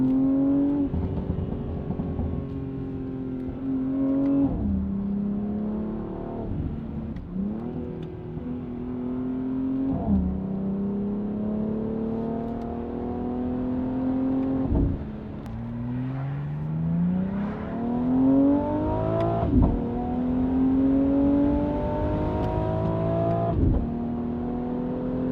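A stock, untuned BMW X3M with its S58 engine and resonated equal-length exhaust pulls hard through repeated gear shifts, each rising, droning wail cut by a short drop at the shift, loud and sustained from inside the cabin.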